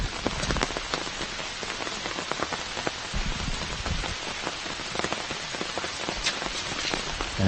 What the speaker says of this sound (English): As we feel the rain get harder